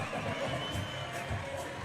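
A water polo crowd roaring after a goal, a dense, continuous wall of cheering and shouting that stays steady throughout.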